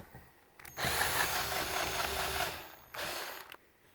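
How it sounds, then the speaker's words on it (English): A power driver whirs as screws are backed out of the interior side of a Schlage keypad deadbolt, two close bursts of motor buzz, the first longer than the second, with quiet pauses around them. "We'll start by taking out 2 screws on the back side."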